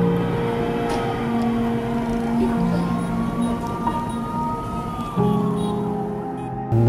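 An ambulance siren wails continuously nearby, its pitch sweeping up and down over a busy background of traffic and engine noise, with a brief bump in loudness near the end.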